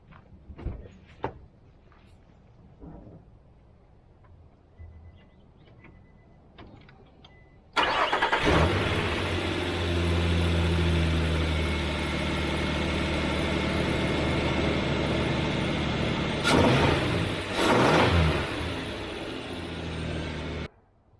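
A Nissan Frontier pickup truck engine, fitted with a snorkel, cranks and catches, then settles into a steady, loud idle close by, after a few scattered clicks and knocks.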